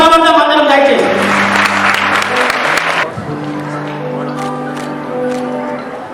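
Church congregation at a Methodist Christmas celebration clapping together as the Christmas cake is cut, a loud dense burst of applause that thins out after a few seconds, with voices and music mixed in.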